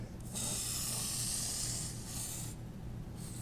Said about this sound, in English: Gonna give just a little bit of spray adhesive.